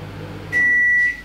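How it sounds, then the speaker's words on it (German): A microwave oven heating a bottle of Sansibar mulled wine gives a quiet low hum, then a loud, steady high beep tone that holds for about half a second and fades, alone with no talking. "Ja, Mikrowelle."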